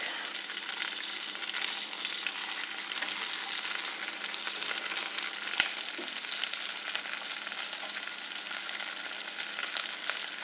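Food frying in coconut oil in a pan while making cabbage rolls gives a steady, dense sizzle that carries on unbroken throughout, with one brief tap partway through.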